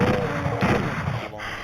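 Gunfire in a 3DO ray-casting video game: a loud, dense burst of shots with sharper cracks landing near the middle and again toward the end, all close and unbroken.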